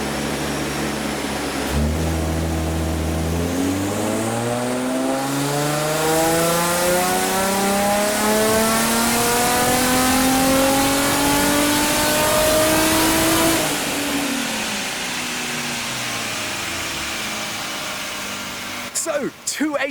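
A Nissan 350Z engine revs hard on a dyno during a final power run after a remap, rising steadily through the gears for a long loud pull before the revs drop away.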